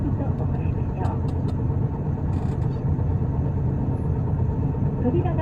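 Tokyu Bus H854, an Isuzu PKG-LV234L2 city bus with an abnormal engine noise, rumbles steadily from inside the cabin on the route from Saginuma Station, a constant low drone with faint rattles, while an onboard announcement voice plays.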